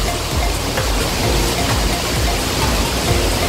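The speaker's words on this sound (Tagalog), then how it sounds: "Lakas ng ulan, grabe." Loud, dense rain pouring steadily, a constant hissing roar with no pauses or voices.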